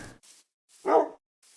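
A Minecraft dog gives one short, clear bark amid brief faint sounds, close and otherwise quiet.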